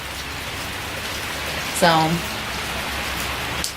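Steady rain falls in Washington as a constant hiss of drops on surfaces, with a voice singing or speaking briefly over it.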